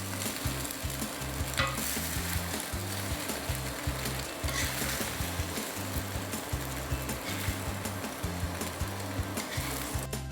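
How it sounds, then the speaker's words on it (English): Macaroni stir-fried in a pan, with steady sizzling broken by a regular rhythm of scraping and tossing strokes. It stays close and fairly loud throughout, and no one speaks. "This is stir-fry macaroni that all kids and adults love."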